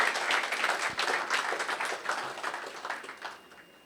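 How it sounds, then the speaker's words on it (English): An audience claps at a corporate company event, a steady wash of applause from many hands that gradually thins and fades out near the end. "Yeah, you can clap."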